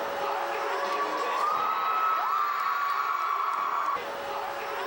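Students in a school gymnasium cheer and whoop at a homecoming pep rally, a steady roar of crowd noise with a sustained tone running through it, dipping slightly near the end.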